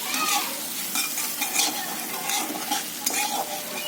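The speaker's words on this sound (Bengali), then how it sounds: "আলু ভাজিটা গাইজ সুন্দরভাবে লেড়ে নেব গাইজ।" Potato bhaji (alu bhaji) being stirred in a frying pan, with steady oil sizzle and repeated scraping strokes of a spatula close by, no voices.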